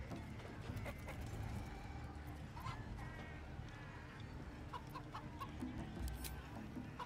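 Chicken clucking in a chicken-chasing minigame at the camp in the video game Baldur's Gate 3, scattered clucks over a steady, busy background of game ambience with occasional hoof-like clopping.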